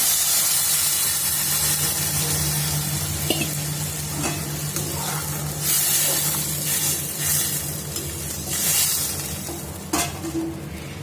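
Dissolved tamarind water poured into hot Nellai-style maavadu vatha kuzhambu, with loud, continuous sizzling and hissing steam close up and occasional stirring clinks, no voices.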